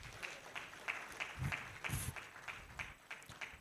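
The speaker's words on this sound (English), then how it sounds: "Please, let's clap for him," Scattered light applause from a small crowd at a disability inclusion stakeholders' conference in Nigeria, steady, fairly quiet, with a few louder claps standing out.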